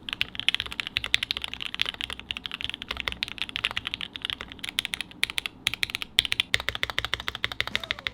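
Rapid, continuous clacking of keys on a custom-built mechanical keyboard, close and crisp, with an uneven rhythm of individual keystrokes and no voices.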